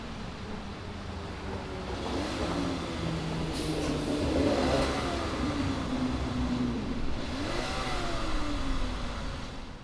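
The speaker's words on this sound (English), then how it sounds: "fire up this engine and see what it sounds like" A 2019 VW Passat SE R-Line engine running at idle, a low steady hum with a couple of gentle rises in revs, heard from nearby with no talking.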